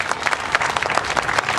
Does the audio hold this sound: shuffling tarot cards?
no